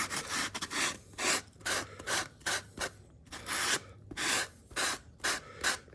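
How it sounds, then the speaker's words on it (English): Rhythmic back-and-forth rasping of a sanding sponge on wood, about a dozen quick strokes with brief pauses, close and fairly quiet. "Go all the way around with the sanding sponge like that."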